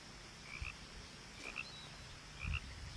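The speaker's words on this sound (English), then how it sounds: "Why am I hearing a frog up here?" A frog croaks three times at a steady pace in What Remains of Edith Finch, each croak a short double chirp, faint and distant over a quiet ambient backdrop.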